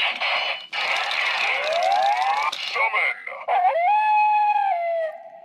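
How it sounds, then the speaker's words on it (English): A Gold Ninja Battle Morpher toy from Power Rangers Ninja Steel plays an electronic howling sound effect, with wavering, rising tones that end in a sustained wolf-like howl, loud and close. "Which is like a howling noise."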